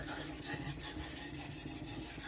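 Custom knife drawn steadily over a sharpening stone, a close, even rasping in regular back-and-forth strokes about every quarter second, with no talk.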